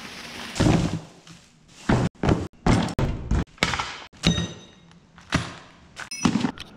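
Air line fittings, elbows, tees and ball valves being unloaded from a car trunk onto a table, heard as a series of close hard thunks and clunks at irregular intervals, some quick pairs, with quiet gaps between.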